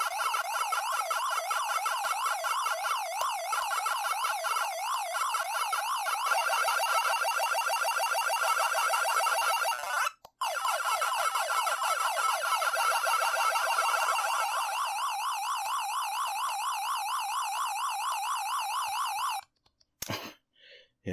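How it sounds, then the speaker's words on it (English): Pac-Man's warbling siren tone plays loud and steady from the Evercade handheld, a shrill electronic sweep looping for about twenty seconds. It breaks off briefly near the midpoint and stops abruptly at the end, with no talk. "Let's check out some Pac-Man."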